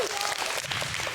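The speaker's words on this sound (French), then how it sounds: "on peut l'applaudir, hein?" Children in an audience clap briefly for a boy at a Christmas storytelling show, a short, dense patter of applause heard close and under voices.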